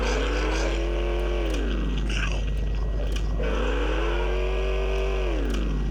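Engines of cars driven by bears in the game Enviro-Bear 2000 drone loudly and continuously, pitch swooping down and back up as they rev and spin about, with a low steady hum beneath.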